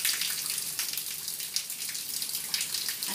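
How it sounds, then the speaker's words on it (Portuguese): Rainwater pours steadily from a roof downspout during a rain shower in Icó, Ceará, a continuous close splashing rush with no voices. "Bastante água já descendo aqui na torneira"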